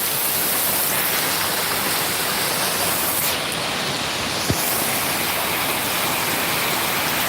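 Heavy rain in Hyderabad sends floodwater rushing past, a steady broadband roar that fills the whole clip with no pauses, plus one brief sharp knock near the middle.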